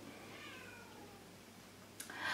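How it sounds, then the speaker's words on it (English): Indoor cats meow in a faint, drawn-out call, followed by a brief sharper sound near the end, against a quiet room background. "I'm sorry if you can hear that meowing."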